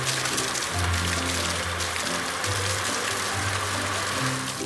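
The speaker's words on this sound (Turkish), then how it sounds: "sulama aracı köpüğü yıkıyor." A cartoon water truck sprays water to rinse foam off a car, a steady hissing stream under light cartoon music tones, continuous and even throughout without voices.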